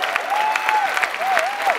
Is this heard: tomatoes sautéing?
no